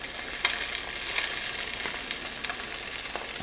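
Wild Alaskan salmon pan searing, a constant bright hiss of hot oil with occasional sharper pops and crackles, close and steady throughout with no one talking.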